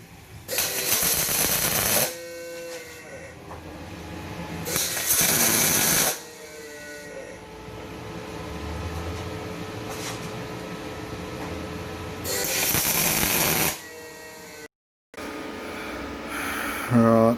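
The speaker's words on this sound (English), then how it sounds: "so I'll weld it all the way around" Welding around a spring mount on a Suzuki Samurai during a rear-up-front axle conversion gives three close bursts of crackling, buzzing arc noise, separated by quieter stretches of shop sound.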